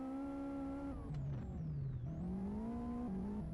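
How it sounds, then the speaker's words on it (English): A rallycross car engine in the racing game Live for Speed hums at a steady, loud pitch, dropping with a grumbling exhaust at each of two quick gear changes before climbing again. "You can hear the nice little grumbling of the exhaust pipe when the gear changes are made."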